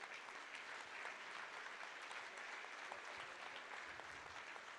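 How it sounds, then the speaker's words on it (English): A crowd claps steadily for several seconds, a dense even patter of hands heard from a short distance. "just to give these guys a bit of a clap."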